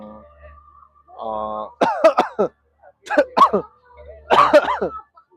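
A few sharp coughs in short bursts, close to the mic, after a moment of someone talking.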